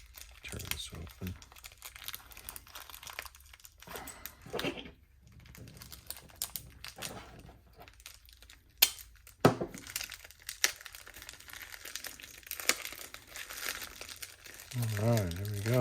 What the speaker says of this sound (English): Oh, I can just tear this open.